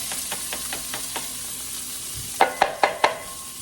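Onions sizzle in olive oil in a pan, giving a soft, steady hiss with light ticking and a few sharper stirring scrapes near the end.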